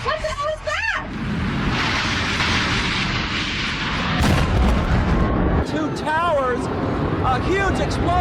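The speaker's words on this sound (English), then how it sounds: "A huge explosion now, raining debris on all of us" A huge explosion in a combat zone with debris raining down, heard as a loud, sustained broadband roar with rumbling low end, while several voices shout over it.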